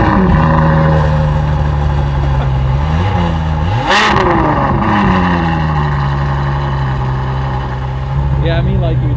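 Engine of a new Evo sports car revving loudly at a cars-and-coffee meet, rising and falling pitch with a sharp burst midway, continuous throughout with people talking faintly underneath.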